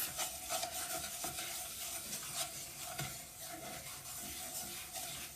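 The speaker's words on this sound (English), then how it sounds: "we're just going to cook that flour" Flour and garlic being stirred in a hot pan with a utensil, a steady scraping stir over a soft sizzle, fairly close and continuous with no talk.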